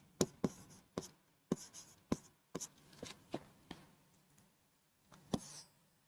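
Someone writes out a probability tree for a coin toss during a maths lesson, producing quiet, irregular taps and short scratchy strokes of the writing tool, close by and with no talking.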